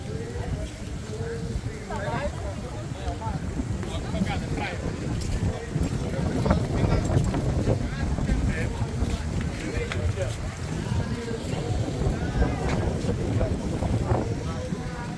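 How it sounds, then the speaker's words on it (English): Gusty wind buffets a microphone outdoors on a Caribbean island, a rough, fluctuating low rumble that runs throughout, with a person talking underneath it. "It's been windy today."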